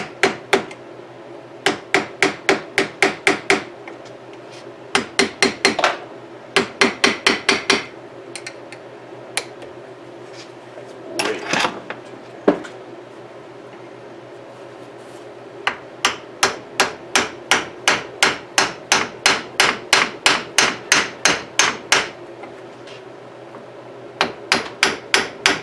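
A hammer knocks at a stuck part on a 1974 Suzuki TC 185 motorcycle to work it loose. Rapid bursts of sharp, close metallic blows come in runs of several strikes, with short pauses between the runs.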